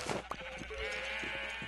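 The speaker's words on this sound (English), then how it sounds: "Let me turn down the sheep a little bit. They're a little loud." Sheep bleating in Minecraft, a few short cries close together, one drawn-out bleat standing out over a steady game background with no talking.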